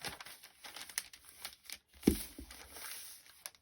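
Paper being folded by hand, a few soft close crinkles and rustles with one sharper crease sound midway, quiet overall and without talk.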